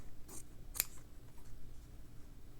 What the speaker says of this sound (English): I could cut it out just like this